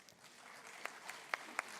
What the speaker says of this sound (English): Let's give him a loud round of applause once again.